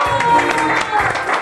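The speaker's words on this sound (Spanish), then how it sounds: "Un aplauso, por favor, grande." Audience applause and cheering at a stand-up comedy show in Argentina, a short dense burst of clapping from a crowd with voices mixed in.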